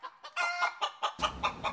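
A rooster or hen from a comedy skit about a boxing chicken clucks in a rapid series of short, close, loud bursts, with a rougher, noisier stretch toward the end.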